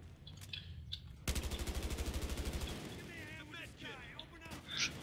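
Gunfire in the video game Battlefield Hardline: a rapid burst of loud automatic fire, about twenty evenly spaced shots, rings out among scattered single shots and in-game effects, with someone talking over it.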